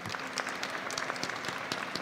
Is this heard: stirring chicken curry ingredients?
no